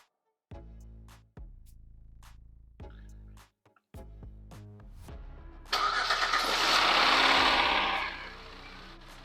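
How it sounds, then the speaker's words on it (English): A series of sharp clicks and knocks, then a Kia Sorento engine cranks and catches after a coolant change, rising to a loud steady roar before settling. "go ahead and start your engine so that the coolant starts circulating"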